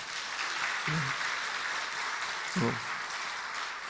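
A church congregation claps together during a midweek evening service, a steady wash of applause broken by two brief voices.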